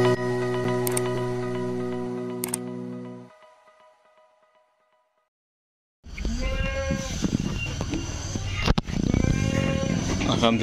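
Boer goats on a farm bleat close by and loudly for the last few seconds, with a person talking among them, after a musical tonal stretch and a short near-silent pause.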